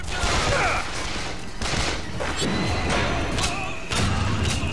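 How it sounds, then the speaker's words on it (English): Rapid gunfire in the video game Bioshock Infinite, loud bursts of shots and impacts in irregular clusters with thuds and mechanical clatter, close and dense throughout. "But that guy's still shooting at me"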